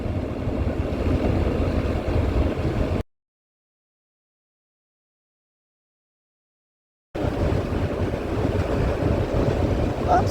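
A Vespa GTS300 scooter riding on a road, heavy wind buffeting the microphone with a low engine rumble, broken by a few seconds of complete silence before the wind roar resumes.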